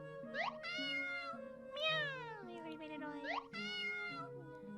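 A cat meows several times with rising, wavering cries, clearly close, over a steady low musical background, in the video game Tales of the Black Forest.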